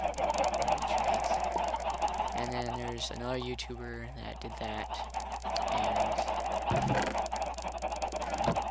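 Goose-like honks and chicken clucking mixed with someone talking over a steady background hum, birds close by.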